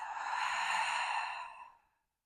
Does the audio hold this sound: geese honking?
no